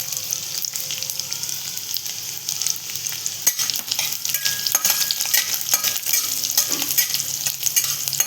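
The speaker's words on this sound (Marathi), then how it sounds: "आता आपण त्यात काय टाकतोय? लसूण 7-8 पाकळ्या आहेत." Seven or eight large garlic cloves fry in a pan for pithla, giving a steady close sizzle with occasional light scrapes and clinks of stirring.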